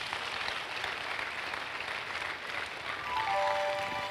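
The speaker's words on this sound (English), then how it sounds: "Clap for Jesus." A church congregation claps steadily at a sermon by Bishop Eddy Addy, a dense, even wash of many hands at moderate distance, with a few sustained musical tones coming in near the end.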